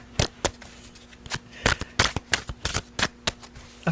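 Playing cards riffled and shuffled fast and repeatedly, a steady run of sharp papery bursts close up, with a faint voice in the background.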